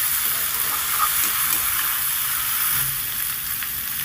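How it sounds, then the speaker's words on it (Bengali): Pieces of yam sautéing with potatoes and spices for a vegetarian yam curry, a steady loud hissing sizzle throughout with faint stirring scrapes, close to the pan. "ওলগুলো দিয়ে ভালো করে মশলার সাথে আলুর সাথে নেড়ে চেড়ে কষিয়ে নেব"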